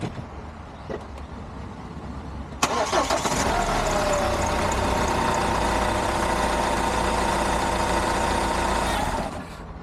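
A reconditioned Hyundai iLoad D4CB diesel engine is cranked and started after a stretch of quiet background noise, then settles into a steady, loud idle with a constant rumble that lasts until the end.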